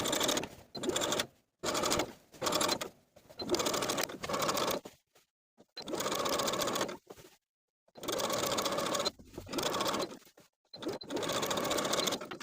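A sewing machine stitches a seam allowance to a garment lining in a puff-sleeve shirred top, running in steady rapid bursts of a few seconds each, separated by short pauses, loud and close with no talking.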